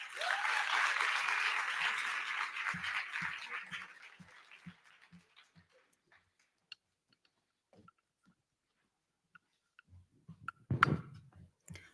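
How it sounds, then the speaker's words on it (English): A crowd at a lecture at a women writers' symposium claps for a few seconds, the applause fading away, followed by near silence broken by scattered small clicks and faint thumps. "So please give both of them a roaring round of applause."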